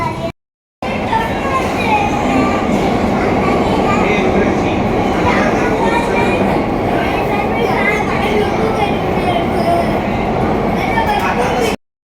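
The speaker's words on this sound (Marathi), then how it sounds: "underground metro" Steady, loud rumble and rattle of an underground metro train in motion in Mumbai, continuous throughout with faint voices mixed in the background.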